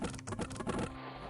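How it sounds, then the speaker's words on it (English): Clattering combat sounds from the Conquest of Elysium 5 strategy game, a fast irregular stream of clicks like an old typewriter. The burst is dense and loud, then ends abruptly. "It kind of sounds like a typewriter when they're fighting."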